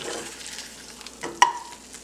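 An egg fries in a pan with garlic, giving a soft, steady sizzle, then a sharp clack and scrape as it is flipped, with quieter sizzling after.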